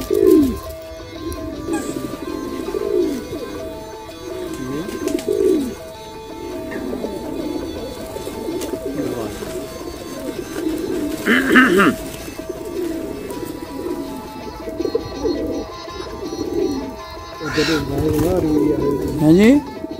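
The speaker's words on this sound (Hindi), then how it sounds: "बड़ा नस्ली कबूतर है।" A large purebred pigeon coos in repeated soft, low, throaty phrases, heard under and between men's outdoor conversation.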